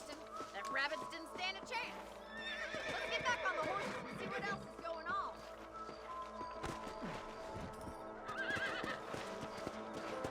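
Horses in the Red Dead Redemption video game gallop with rhythmic clip-clopping hooves and occasional whinnies, heard up close alongside game music and bursts of character dialogue.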